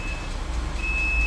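A workshop car lift lowers a Mercedes W124 with a steady low mechanical drone, while a thin high beeping tone sounds at the start and again near the end.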